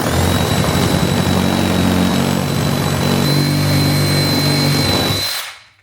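A Sawzall reciprocating saw buzzes loud and close as it trims plastic near a Jeep wheel being fitted to a Cayenne, running steadily before winding down and stopping.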